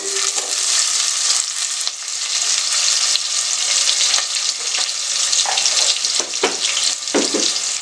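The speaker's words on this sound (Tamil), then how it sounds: "ஒரு 2 ஏலக்காய் போட்டுக்கலாம். இதை வதக்கி விடுங்க." Onions sauté in hot oil with cardamom and a piece of cinnamon for mutton kola curry, giving a loud, continuous hissing sizzle with occasional spoon scrapes toward the end.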